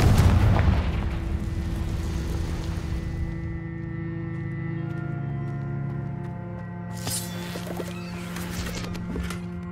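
A Confringo blasting spell in Hogwarts Legacy goes off with a loud, close boom that fades into a long ringing, humming tail, with a brief crackling flare partway through.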